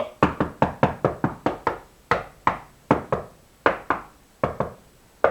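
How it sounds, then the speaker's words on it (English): Knuckles rapping on a wall, checking hollow sections against a stud: a steady run of sharp, close knocks in quick groups, some duller and some fuller, with short pauses between sets and no talking. "Knocking on the wall where you can hear the hollow spots, and when you get to where the stud is, it's normally a different sound."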